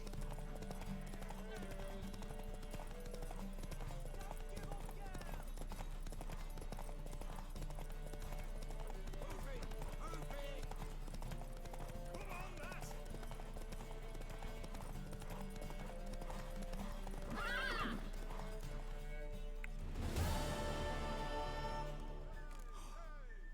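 Horse hooves clip-clop steadily throughout, with a whinny breaking out near the end over a busy background.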